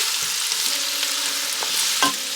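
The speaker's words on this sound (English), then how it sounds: "I'm going to add in our tomato paste, a nice stir." A spoon stirs tomato paste into cooked-down onions and garlic in a pot for beef stew, giving soft scraping and a light sizzle with a sharper clack near the end, close and with no talking.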